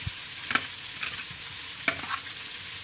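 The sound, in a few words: beating nopal salad with salt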